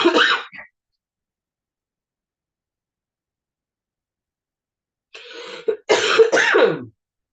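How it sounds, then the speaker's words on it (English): A single short cough at the start, then silence, followed by throat clearing and further coughing from a woman at close range. "Sorry, I apologize for the first cough."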